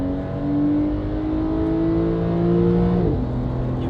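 Porsche 992 Carrera with stock downpipes, no tune and a Valvetronic Designs titanium exhaust revving close up: a steady, rising engine note that drops off sharply near the end, with no voices.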